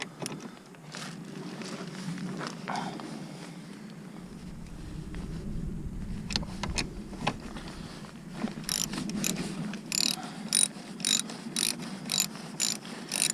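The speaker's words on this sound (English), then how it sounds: "And I'm going to just take off the other bolt, and this slip-on should basically come off." A hand ratchet works an exhaust bolt loose on a 2005 Yamaha YZF600R Thundercat to free a Delkevic slip-on, giving repeated close clicking bursts with metallic clinks, busiest toward the end, and no talk.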